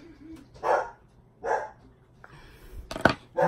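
A dog barks indoors in three separate short bursts with pauses between them, heard at moderate loudness over a quiet room.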